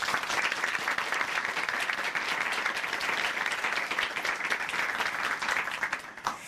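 A church congregation at a testimony program applauds, warm and sustained, with many hands clapping steadily throughout before fading slightly at the end.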